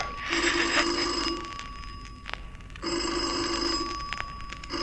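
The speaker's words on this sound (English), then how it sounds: "A bell was ringing somewhere" An old telephone bell rings in two long electric trills separated by a short pause, close and loud, with a small clunk between the rings, as a sound effect in a crime radio drama.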